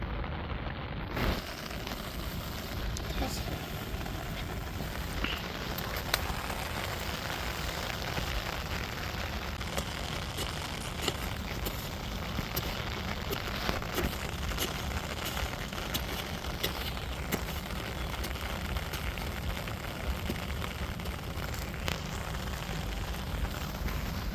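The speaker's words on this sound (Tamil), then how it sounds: "நல்லா மழை அடித்து ஊற்றிக்கிட்டு இருக்குது" Heavy rain pours down steadily in a village, a dense, unbroken hiss of water that stays loud and even throughout, with no voices.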